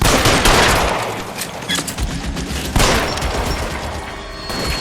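Loud, dense gunfire fills a shootout in the video game L.A. Noire, with rapid overlapping shots, booms and crashing impacts throughout.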